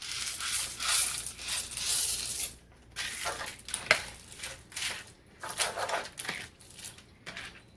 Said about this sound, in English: Now you're going to add 1 cup of uncooked elbow macaroni